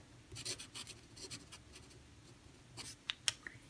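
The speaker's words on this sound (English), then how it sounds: "We just need to sign and date." Pen scratching across paper to sign and date a small watercolor painting of a snowy Christmas tree, short quiet strokes in bursts, ending with a few crisp taps.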